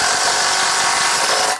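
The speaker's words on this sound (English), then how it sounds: "Ooh, another drill." An electric drill drives into a window frame during installation, giving one continuous high whirring buzz, close and loud, for about a second and a half.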